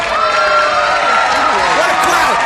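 A studio audience cheers loudly and continuously, a dense wash of crowd noise with many voices blended together throughout.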